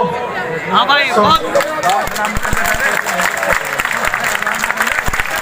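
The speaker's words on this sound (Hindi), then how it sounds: "भाई रुक जाओ, पहले ताली मत बजाओ, बात सुन लो" A crowd at an outdoor political rally claps loudly, with dense patter mixed with chatter and raised voices throughout.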